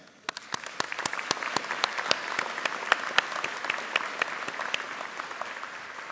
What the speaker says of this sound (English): we want to send her an applause anyway